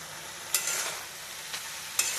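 Dhenki greens stir-fry in a pan with a soft, steady sizzle, marked by three sharp scrapes of a spatula against the metal. No one speaks.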